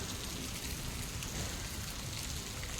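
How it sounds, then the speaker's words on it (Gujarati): Steady rain falls at a temple, a soft continuous patter on surfaces heard from nearby with no voices, ending in a brief knock. "વરસાદ ચાલુ થઈ ગયો છે એટલે સ્ટોપ કરી દીધું છે"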